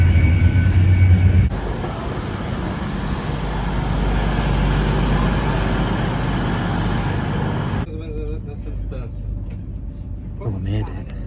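Steady rumbling rattle of a fast train carriage heading to Birmingham, loud and continuous, with people talking over the noise before it quietens near the end.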